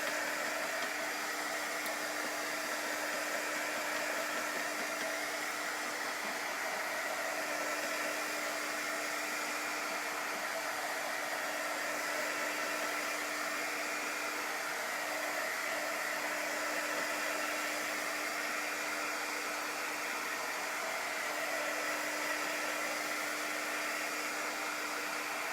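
A hair dryer blows steadily to dry a chalk transfer on a wreath, its constant near whooshing roar with a fixed motor tone holding for the whole stretch, with no voices.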